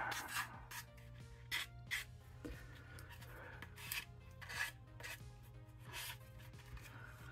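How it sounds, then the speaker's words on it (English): A Monogram Typhoon model part is sanded by hand with a twisting wrist motion, giving soft, close rasping strokes in short uneven bursts over a low steady hum, faint and alone without talk. "Now, why do I twist my wrist like that? To keep it rounded, right? That way I don't sand it flat."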